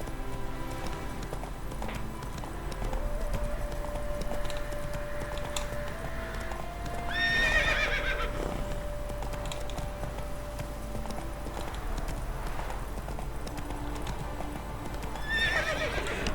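Roach the horse gallops in The Witcher 3, hooves clip-clopping in a steady rhythm under low game ambience, with loud whinnies breaking out twice.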